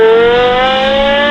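A powerful 5.7-liter naturally aspirated V10 supercar engine revs loud and close, a steady high-pitched wail rising slightly in pitch, rich with harmonics, with no voices.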